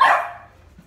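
A small white dog lets out a single sharp bark that fades quickly, close and loud, with no talking.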